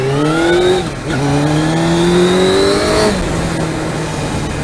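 A Suzuki GSX-R600 SRAD motorcycle engine revs loudly and close, its tone climbing and dropping between throttle blips, with no talk over it.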